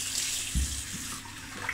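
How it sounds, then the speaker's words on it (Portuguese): Water runs steadily from a tap as a face is rinsed during a simple skincare routine, a constant close splashing flow with a brief louder surge partway through. "Vamos enxaguar e pronto."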